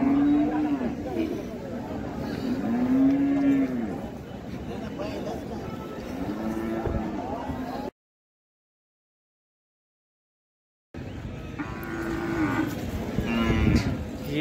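Large Khillar bulls lowing at a busy cattle market in Sangola. Several deep moos rise over a background of crowd chatter, and a stretch of complete silence splits the clip in the middle.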